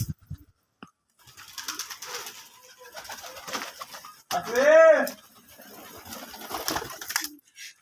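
Pigeons cooing in cold, windy weather outdoors in India, one clear, close throaty coo standing out midway, with people talking throughout.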